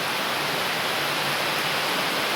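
A very heavy downpour of rain hammers steadily, a loud, unbroken hiss of falling water close by with no speech over it.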